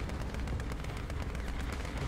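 An artillery barrage lands in War Thunder during a tank battle, a dense, continuous rumble of booming impacts at steady loudness with no talking.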